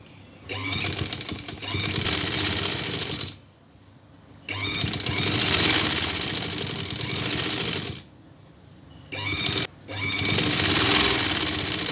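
A sewing machine stitches a folded trouser hem in long, loud, steady runs, stopping briefly between them and once more near the end.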